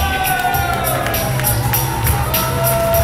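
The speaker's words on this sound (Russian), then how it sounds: "Applauses for the winner team." Crowd noise with cheering and scattered shouts, steady and dense throughout, as an audience applauds the winning team at a competitive event on Cape Kaliakra.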